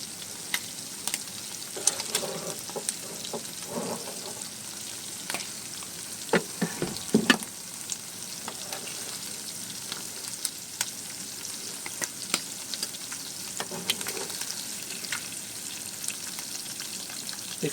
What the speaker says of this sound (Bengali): দেখুন, আমি হালকা শক্ত শক্ত করে মাছটাকে ভেজে নিছি।